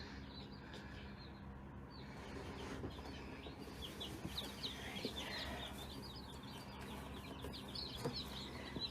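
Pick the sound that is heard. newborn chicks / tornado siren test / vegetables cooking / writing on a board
newborn chicks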